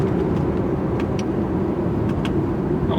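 A 2011 BMW M3 rolls down a street at dusk, giving a steady, loud low road and engine rumble with faint higher ticks throughout, and no voices.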